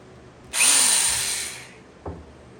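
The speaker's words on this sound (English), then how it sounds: "This is like my worst nightmare, like drilling into something on the fan." A power drill bores into an Edison box fan in one short, loud burst of about a second, whining as it spins up and then winding down, followed by a brief knock.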